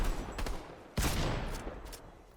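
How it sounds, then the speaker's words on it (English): Fortnite gunfire: a pump shotgun blast and rapid burst-rifle shots crack close and loud in quick sequence, with the strongest report near the middle and lighter pops after. "If you shoot pump and then one burst, you swap and you see the pump's not ready to shoot yet."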